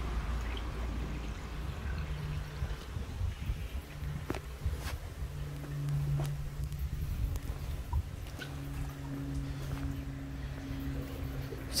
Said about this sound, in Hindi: अभी इसमें पानी हम डाल रहे हैं